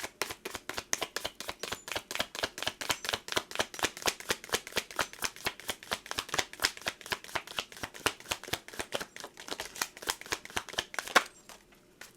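A deck of tarot message cards is shuffled repeatedly, with fast, regular riffling slaps running steadily and close up for about eleven seconds before stopping.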